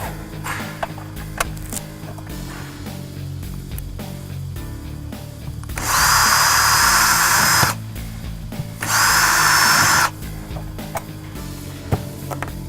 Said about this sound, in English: I'm using the smallest drill bit for it